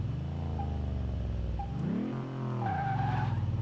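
Land Rover Defender V8 in Car Mechanic Simulator 2018 revving and pulling away, a steady loud engine drone whose pitch rises and dips through gear changes, with a tyre squeal near the end and no talk.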